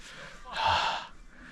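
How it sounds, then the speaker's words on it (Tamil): A hiker breathes hard, heavy panting on the climb up a 3200-foot hill on a trekking route, one loud close gasp rising then easing. "மூச்சு வாங்குது ரொம்ப."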